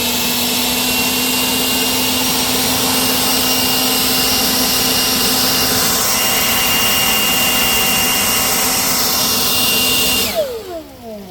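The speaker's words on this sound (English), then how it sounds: "help the leaves out a little bit, either with a net or with a leaf blower" A leaf blower runs continuously over a koi pond, a steady loud motor roar with a high whine that holds for about ten seconds, then cuts off abruptly, leaving quiet background.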